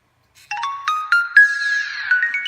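A smartwatch plays its power-on tone, a bright electronic melody of several quick rising notes that ends in a sustained, slowly fading tone. It sounds close and clear, with no talking.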